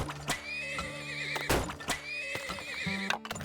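A horse in the oil-drilling video game Turmoil gives a clear, wavering whinny, with a few hoof clip-clops and thumps around it. No one speaks.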